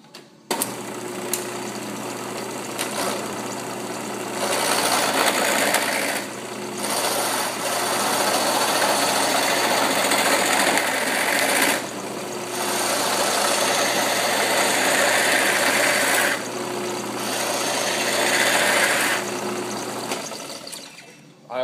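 A running lathe turning a gumball machine part in a workshop, a steady machine whir with a constant low hum and bursts of louder cutting noise that start and stop several times.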